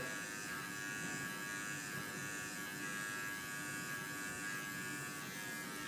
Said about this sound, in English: notice I'm very slightly curving the clipper to give me an angle here